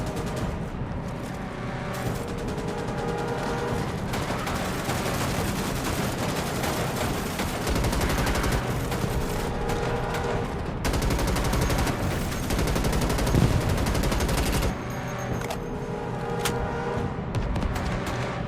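Sustained, heavy automatic gunfire pours into swarming bugs in a Starship Troopers game, a loud, unbroken barrage of rapid shots with booms layered over it for the whole stretch.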